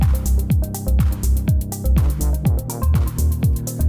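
Programmed beat from an Elektron Digitone synthesizer, steady punchy kick-like hits about twice per second under a sustained tonal pad, loud and alone.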